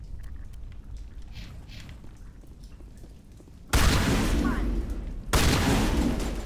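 Gunfire in the video game Mass Effect Legendary Edition: after a quieter stretch of low rumbling and game sounds, two loud, dense sustained volleys of weapon fire erupt close up.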